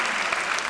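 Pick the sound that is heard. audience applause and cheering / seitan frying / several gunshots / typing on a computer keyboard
audience applause and cheering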